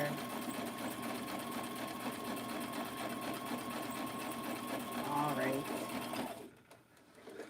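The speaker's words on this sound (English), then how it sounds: "I love sewing on my journals. I sew everything." A sewing machine runs steadily while stitching paper and junk mail into a handmade junk journal, a continuous close mechanical whir that stops abruptly near the end.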